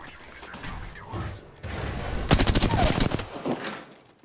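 Rapid bursts of automatic gunfire in a ranked online shooter, quick repeated cracks clustered in volleys with mechanical clatter, loud and close against background game sounds.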